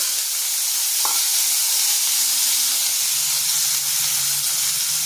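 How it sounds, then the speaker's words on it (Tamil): Chopped potatoes sizzling in hot oil with urad dal and curry leaves, a steady loud hiss and crackle throughout with a faint clink near the start, no talking. "கழுவிட்டு நறுக்கி வச்சுருக்க உருளைக்கிழங்கு போட்டுக்கிறேன்"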